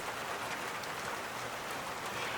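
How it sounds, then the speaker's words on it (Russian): Rain pours down in a village in the Urals, a steady dense hiss of falling drops, uniform and fairly loud throughout with no voices. "Вот сейчас как раз опять поливает."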